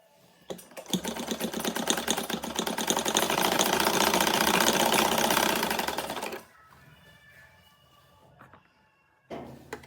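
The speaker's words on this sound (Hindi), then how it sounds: "सिलाई 2 बार करनी है, ताकि सिलाई हमारी पक्की हो जाए।" An electric sewing machine stitches a seam on a child's winter dress. It runs in one fast, even burst of rapid needle clatter for about five seconds, then stops, leaving quiet handling noises. No one speaks.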